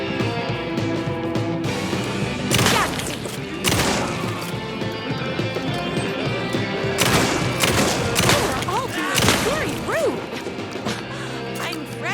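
Gunfire and crashing impacts from the video game Alan Wake 2, Night Springs DLC, loud bursts of shots over a dense layered game soundtrack and effects.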